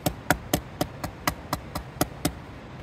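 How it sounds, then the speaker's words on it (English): A folding knife is struck repeatedly to test its lockup: ten sharp, evenly spaced metallic whacks about a quarter second apart, close and crisp, with no voices. "I just whacked it a bunch of times."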